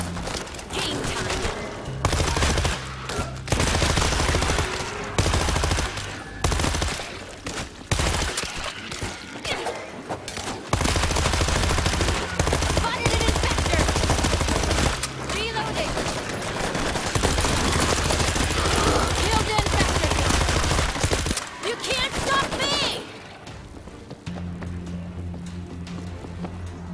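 In World War Z Aftermath, a mounted turret machine gun hammers out long, loud sustained bursts with brief pauses, heavy rapid gunfire dominating throughout, with a short lull near the end.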